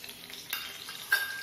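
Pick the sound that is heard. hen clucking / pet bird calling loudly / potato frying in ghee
potato frying in ghee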